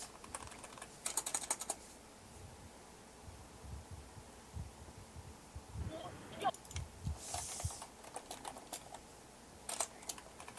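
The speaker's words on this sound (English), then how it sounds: "He's typing" Computer keyboard typing in bursts of quick clicks, moderately close, with pauses between runs and faint room noise and a bit of low background speech.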